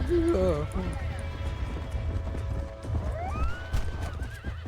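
A horse neighs loudly at the start, with hooves clip-clopping steadily underneath and a second whinny later, over a busy Red Dead Redemption game soundscape.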